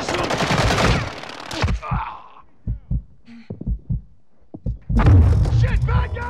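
Machine gun fire in the video game Call of Duty Modern Warfare II, loud sustained bursts opening and closing the moment with scattered single shots between, alongside shouted voices and game sounds.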